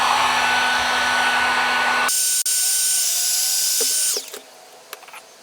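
A heat gun blows with a steady, loud airy roar while shrinking heat shrink tubing over wiring for Diode Dynamics S5 pod lights, then cuts out near the end, leaving a few faint clicks and handling noises.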